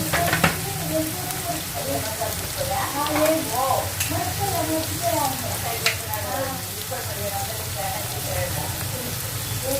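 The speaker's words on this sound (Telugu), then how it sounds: "చూసారుగా ఉల్లిపాయలు కూడా బాగా వేగాయి" Onions fry in a pan for a bitter gourd dish, giving a continuous close crackling sizzle throughout with faint voices beneath it.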